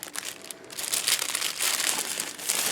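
Paper cutouts for a Victorian lace tea party project rustle and crinkle as they are handled and pulled out, a close, continuous dry crackling with louder bursts.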